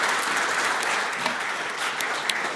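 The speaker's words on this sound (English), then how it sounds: "Yeah, thank you. Round of applause." An audience at a telco industry panel on AI-native networks gives a steady round of applause, dense and continuous throughout with a few sharper claps standing out near the end.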